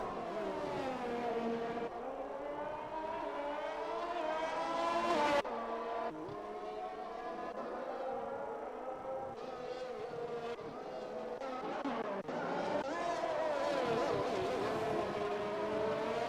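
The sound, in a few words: McLaren race car going past, from a racing video game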